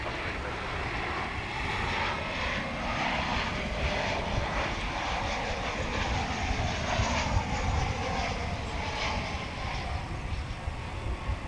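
An international airliner arrives on runway 17 right at DFW International Airport, its broad engine roar steady and fairly distant throughout, with no voices heard.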